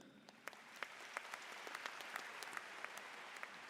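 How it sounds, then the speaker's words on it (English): Audience applause at a name-reading ceremony, fairly faint and distant, with scattered individual claps standing out over a soft, steady clapping wash. "We may want to hold applause till the end."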